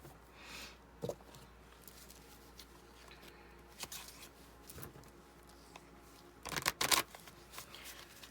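Tarot cards are shuffled by hand in quiet, soft papery riffles and taps with a brief louder burst near the end, close and alone without talk.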